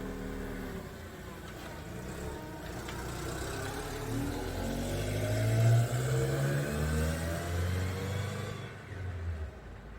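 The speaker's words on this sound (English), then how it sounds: "Doing a test drive on the little Ranger here." A small Ford Ranger pickup truck on a test drive, its engine droning steadily from the cabin and rising as it accelerates midway, with road rumble underneath and no talking.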